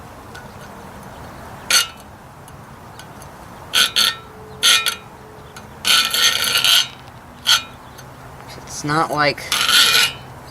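A knife blade is worked by hand with a file, giving several short, harsh rasping strokes at irregular intervals, close by, separated by quieter handling clinks; a voice speaks briefly.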